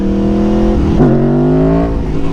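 Motorcycle engine pulling hard in second gear for a power wheelie, a loud close revving tone that dips briefly and climbs again.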